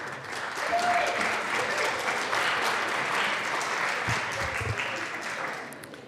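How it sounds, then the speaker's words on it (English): Sustained applause from the audience in the Colorado House of Representatives chamber during a legislative session, loud and steady throughout, fading slightly at the end. "So again, a round of applause for those people who deal with our children each and every day."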